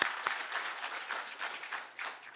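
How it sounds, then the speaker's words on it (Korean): A church congregation applauds during a Sunday worship service, producing a dense, continuous wash of many hands clapping together, moderately loud and steady throughout. "하나님 아버지 감사합니다 하면서 박수를 쳐요."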